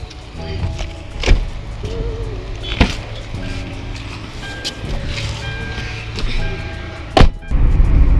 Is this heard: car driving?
yes